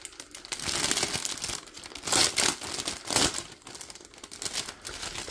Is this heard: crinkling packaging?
yes